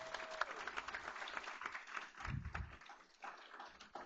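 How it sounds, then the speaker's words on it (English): An audience at a school board meeting applauds AP Scholar students, with moderately quiet, steady clapping and a brief low thump partway through. "let's give all 57 of these students a big round of applause."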